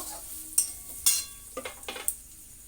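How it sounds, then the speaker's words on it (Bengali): Fenugreek seeds fry in hot oil for aloo paratha filling, heard as a quiet sizzle broken by several sharp spoon clinks and scraping stirs against the pan, close and without speech. "এবারে একটু কচুরি মেথি দিয়ে দেব দেখো যাতে এটা ভাজা হয় সুন্দর করে"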